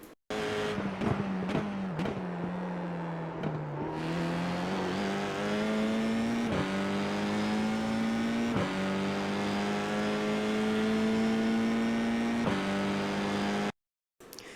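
Race car engine in iRacing at Sonoma Raceway, held at a steady high drone with brief throttle lifts and repeated rises through the gears, loud and continuous until it cuts out near the end.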